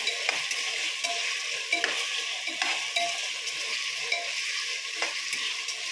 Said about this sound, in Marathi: थोडासा जरा मिक्स करून घ्यायचं त्याला